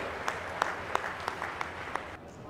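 Audience applause at a public inauguration and foundation-stone ceremony for development projects, a steady wash of clapping with a few sharper claps standing out, fairly distant and fading out near the end.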